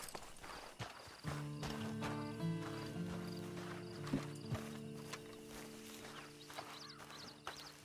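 Horse hooves clip-clopping in the Red Dead Online video game, steady walking hoofbeats under a sustained tonal music bed, with brief soft game sounds.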